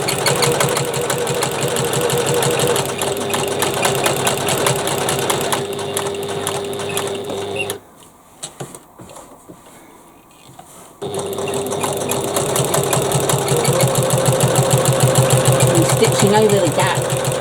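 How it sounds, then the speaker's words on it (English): A sewing machine triple stitches the top of a slip pocket on a bag, running in a loud, fast mechanical chatter, pausing for a few seconds of near quiet midway, then starting up again. "And now we just sew, and I just triple stitch to anchor the top of the pocket."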